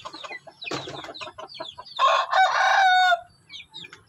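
Native, Brahma and Shamo chickens cluck in quick, scattered bursts close by, then a rooster lets out one full, loud crow before the clucking resumes softly.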